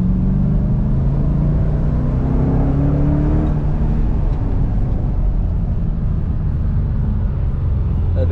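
Ford Mustang GT V8 with 300 hp, heard from inside while cruising as a steady, loud, low engine drone with road rumble that never lets up.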